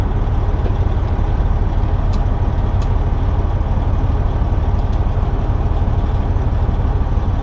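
A truck with an Eaton Fuller 10-speed transmission, shifted into low gear with the clutch down, as a loud, steady engine idle rumbles throughout, with a few brief faint clicks and hisses from the shifter and air.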